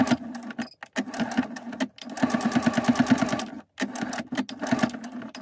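A sewing machine runs a straight stitch in bursts, its rapid, steady mechanical chatter stopping briefly a few times between runs, close and clear with no talking.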